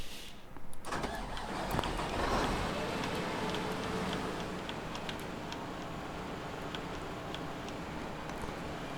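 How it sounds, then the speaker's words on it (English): A big combine harvester engine in the Agricultural Simulator 2013 video game gives a steady, moderately loud drone and whir. It starts with a brief mechanical surge, then continues evenly with faint ticks throughout. "this combine sounds a little bit quieter than the last one"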